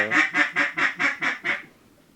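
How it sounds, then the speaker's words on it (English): A mallard duck quacks seven times in an even, rapid series, loud and close, on a duck hunt, with the calls fading at the end. "another mallard coming over us"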